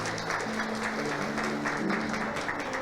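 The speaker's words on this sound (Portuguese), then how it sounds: "Uma salva de palmas para os nossos visitantes." A congregation at a church service claps for visitors, a steady wash of hand clapping sustained throughout, with a low musical tone lingering beneath.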